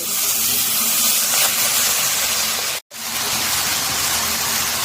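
Red amaranth leaves drop into hot oil with fried garlic, giving a loud, dense, hissing sizzle that broke off for a split second before resuming at full strength.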